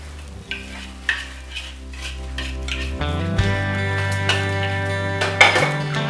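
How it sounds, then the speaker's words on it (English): Singapore noodle ingredients being stir-fried in a wok, with steady scraping and stirring strokes over a soft sizzle, close by, beneath continuous tonal background music. "Then Push back all the ingredients back to the center and mix them all together."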